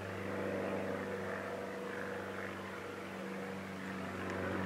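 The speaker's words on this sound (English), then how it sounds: "there's a biplane going overhead towing a glider" A biplane towing a glider passes overhead near Waitsfield, Vermont, and its propeller engine makes a steady, distant droning hum that stays even throughout.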